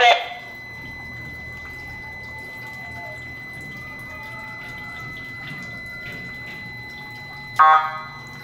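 A ventilation system alarm sounds as a steady electronic tone, holding constant and fairly quiet with a short louder burst at the start and again near the end.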